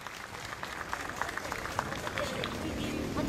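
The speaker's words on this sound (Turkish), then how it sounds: "Sayın milletvekilimizi bir alkış edebilir miyiz?" An audience at an association gathering applauds a member of parliament, with continuous clapping mixed with crowd murmur and chatter throughout.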